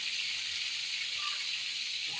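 Garlic fries in a pan with oil, giving a steady, even sizzle that stays close and constant throughout, with a faint voice briefly underneath.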